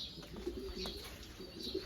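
Pigeons and their young coo softly inside a loft, with faint repeated coos and chirps against a quiet background.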